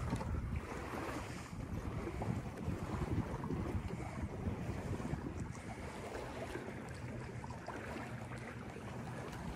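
A sailboat glides along under autopilot at about 4.5 knots, with steady wind rushing across the microphone and water washing along the hull in a continuous, even hiss.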